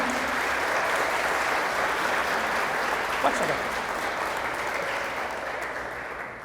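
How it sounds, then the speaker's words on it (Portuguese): An audience at a church gathering claps steadily for a sister, a dense, sustained wash of applause that fills the room and slowly tapers toward the end, with a brief spoken phrase heard over it. "uma salva de palmas para a irmã"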